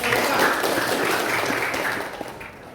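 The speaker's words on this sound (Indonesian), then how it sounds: "tepuk tangan" Classroom applause during a teaching practice session in Indonesia, a steady broadband clapping wash that holds for nearly three seconds and fades slightly toward the end, with no voices over it.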